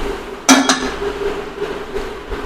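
A metal lid clanks down onto a pan of hot oil where mustard seeds, cumin, fenugreek and pepper are tempering, making one sharp clink with a brief ringing follow-up, then quiet sizzling.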